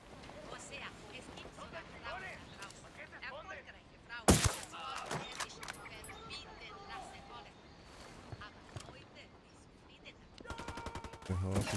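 Gunfire in the tactical shooter Ghost Recon Wildlands, one sharp loud shot standing out midway with scattered fainter reports, under ongoing game sounds and talk.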